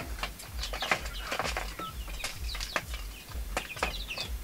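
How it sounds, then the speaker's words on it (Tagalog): Chicks under two months old chirp and peep in quick, overlapping bursts, close by, with soft clucking and rustling scattered throughout. "Yung mga sisew na yan na mga below 2 months old."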